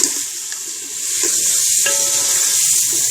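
Meat dropped into browned ginger-garlic paste with cumin in a pan for kali mirch karahi, a loud close sizzle swelling and holding steady with a few stirring scrapes and clinks, no talking.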